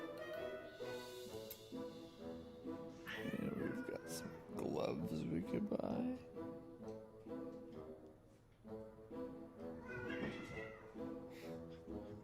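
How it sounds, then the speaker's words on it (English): Pet cats wrestling indoors, meowing and yowling in bursts over steady game music and someone talking, with a louder tangle of cries in the middle. "Now my cats are wrestling with each other and making a whole lot of noise."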